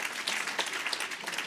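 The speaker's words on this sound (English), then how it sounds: "give him a round of applause first of" Steady crowd applause, a dense patter of many hands clapping at close range with no voices over it.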